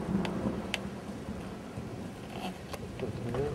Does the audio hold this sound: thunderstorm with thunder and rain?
yes